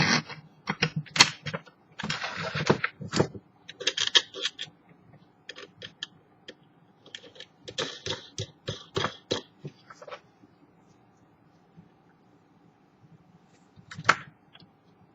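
A trammel cutter scores a circle into plywood, its centre plate screwed to the ply, in irregular scratchy bursts of strokes with pauses, then a quiet stretch and one last stroke near the end.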